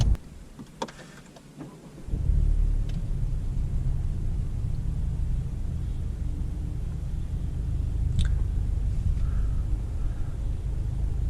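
A 2019 Honda Civic Type R being driven, heard from inside as a steady low engine and road rumble that swells after a quiet start, with a few faint clicks and no talk.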